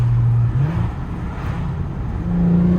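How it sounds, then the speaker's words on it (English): Volkswagen car accelerating hard through a third to fourth gear pull, a loud close engine drone that dips briefly at the shift and then climbs steadily again, no talking. "I'll do a third gear to fourth gear pull"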